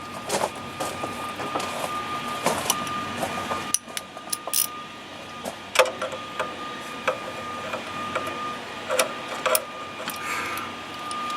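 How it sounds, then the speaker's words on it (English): A socket wrench works on the 13 mm valve cover bolts of a 2011 Nissan Altima 2.5 SL, giving rapid ratcheting clicks in short bursts with metallic taps and handling noises, close up in a quiet garage. "So get our socket wrench on them."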